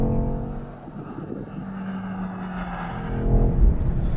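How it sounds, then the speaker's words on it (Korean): A 2023 BMW XM SUV accelerating in sport mode, its engine droning steadily with rising and falling tones and swelling louder toward the end, heard from inside the cabin. "자, 스포츠 모드로 바꾸고 이제 달려볼까요?"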